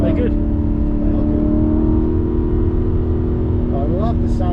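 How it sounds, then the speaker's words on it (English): An Aston Martin V8 Vantage engine drones steadily with a deep, constant hum, its pitch wavering slightly near the end, while people talk over it. "I love the sound of this engine."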